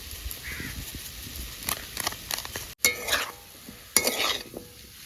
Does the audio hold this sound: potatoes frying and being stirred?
yes